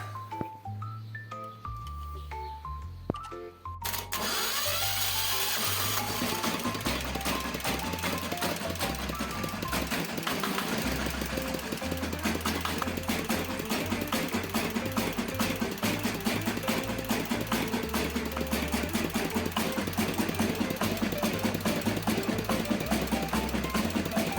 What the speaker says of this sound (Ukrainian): Запускати будемо стартером.